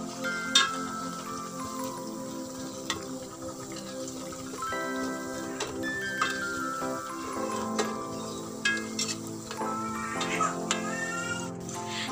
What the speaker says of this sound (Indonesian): kita goreng jajanan ini sampai matang dan berwarna kuning kecoklatan